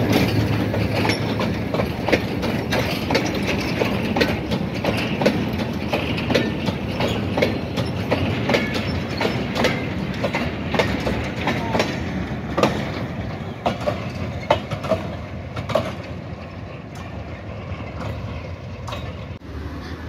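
A train runs past Mankiala railway station with continuous loud rumbling and rhythmic clickety-clack of wheels over rail joints, steady and close throughout, with occasional metallic squeals and no talking.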